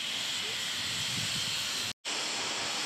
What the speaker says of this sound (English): Beautiful looking steam engine.